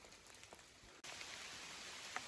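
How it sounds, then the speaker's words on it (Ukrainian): Heavy rain pours in a forest, a dense steady hiss of drops on leaves that suddenly grows louder partway through, with occasional nearer drips standing out. "Знову посилився дощ"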